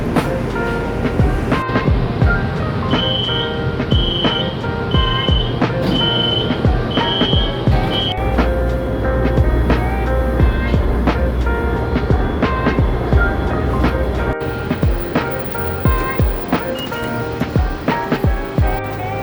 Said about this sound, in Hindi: ट्रेन आ रही है गाइस, खाली ट्रेन है।